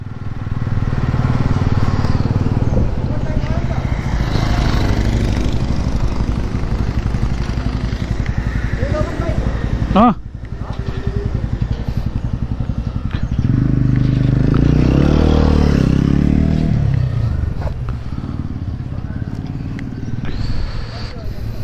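A motorbike rides along the road from Dumre toward Besisahar in Nepal, its engine droning loudly and steadily throughout with a brief dip midway, while people talk over the engine noise.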